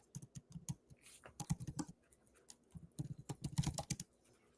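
Someone types a search on a computer keyboard: quick, irregular bursts of close key clicks with brief pauses between words, no talking.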